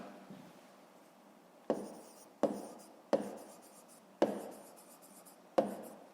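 A pen writes on paper while working a math exercise, producing a series of about six soft scratchy strokes with pauses between them. Quiet and close, with no talking.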